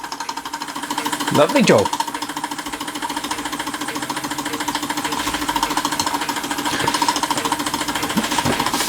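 A Stirlingkit Retrol SE-02 model steam engine drives a Ferris wheel, giving a rapid, even mechanical chatter that runs steadily throughout, with a brief voice near the start.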